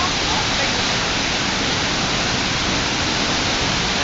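Dawara Falls waterfall roaring as a loud, steady broadband rush of falling water, continuous and close throughout with no breaks.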